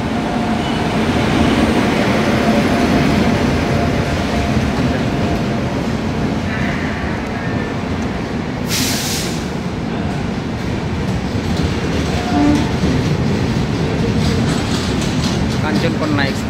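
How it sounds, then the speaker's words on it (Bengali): The Kanchankanya Express, 13149 Up from Sealdah to Alipurduar Junction, arriving at New Mal Junction. A loud, continuous rumble and rattle of rolling wheels and wagons, with a brief hissing burst midway. "ধীরে ধীরে কাঞ্চনকন্যা এক্সপ্রেস ট্রেনটি সামনের দিকে এগিয়ে আসছে"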